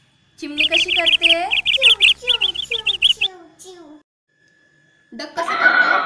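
A young child imitates a sparrow's chirp with a quick run of high, repeated chirps, close and clear. A short pause follows, then another voice speaks.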